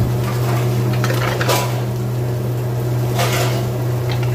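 Vegetables for chilli paneer are stirred in a pan with a spoon, giving a few clattering scrapes of metal on cookware over a loud steady hum, with no talking.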